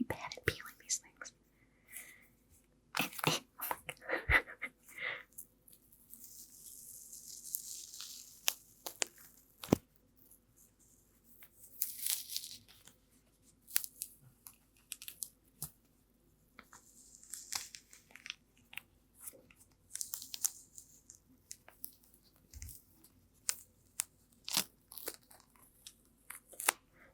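A mandarin peeled by hand close up, with soft tearing and crinkly ripping of rind, sharp ticks and snaps in quiet surroundings, mixed with whispered talk.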